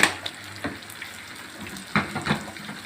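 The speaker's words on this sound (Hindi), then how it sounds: "थोड़ा सा हम फ्राई करेंगे।" Tadka of kasuri methi and red chili frying in hot oil, a soft crackle and sizzle with a few sharper spits and stirring clinks, heard alone.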